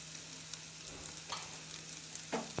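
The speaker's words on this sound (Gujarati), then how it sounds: "મિક્સ કરી અને આ મસાલાને આપણે સાતળી લઈશું" Turmeric, coriander-cumin powder and Kashmiri red chilli sautéing in a pan for restaurant-style dal tadka, a soft steady sizzle with faint stirring scrapes and a sharper clink near the end.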